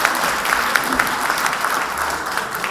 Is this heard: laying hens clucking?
no